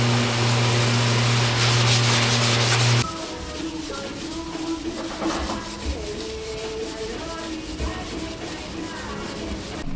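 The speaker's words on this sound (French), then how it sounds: "Petit ponçage avant" Steady abrasive rubbing of sandpaper across a new Peugeot 206 fender before priming, a continuous close scratchy hiss that shifts in tone partway through, with a strong tonal hum at the start.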